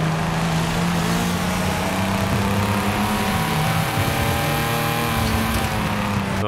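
BMW car in Forza Horizon 5 revs and accelerates on gravel, a steady loud engine drone with strong low harmonic bands that dip and climb again midway, heard alone without talk.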